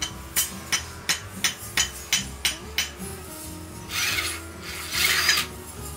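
A bolt turned counterclockwise while a front-door lock is removed: about ten evenly spaced metallic clicks, like a ratcheting tool, followed by two bursts of grinding, close and fairly loud with no talk.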